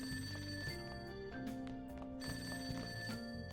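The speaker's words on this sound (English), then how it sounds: "That ringing, it doesn't sound like it's coming from my cell phone, it's coming from downstairs." A telephone bell rings repeatedly from somewhere downstairs, steady and clear with no voices over it.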